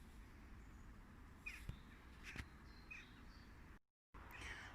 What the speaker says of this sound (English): It's crows.